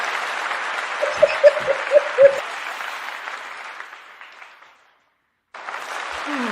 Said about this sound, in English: That was a short applause, Kesha.